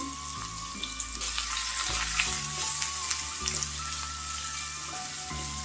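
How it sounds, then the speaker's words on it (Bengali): Sliced onions and garlic sizzle steadily in hot oil in a pan while cooking dal fry, with occasional stirring scrapes over the constant frying hiss, close and continuous. "রসুনটা একটু লাল লাল হয়েছে এবার পেঁয়াজটা দিয়ে দিচ্ছি"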